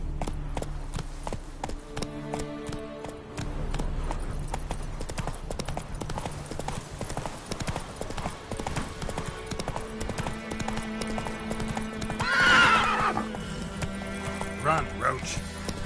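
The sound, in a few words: horse galloping and neighing in The Witcher 3 video game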